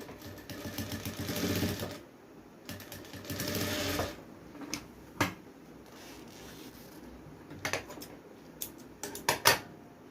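A sewing machine stitches a blouse in two steady whirring runs of a couple of seconds each, followed by scattered clicks and taps of the mechanism, close and fairly quiet.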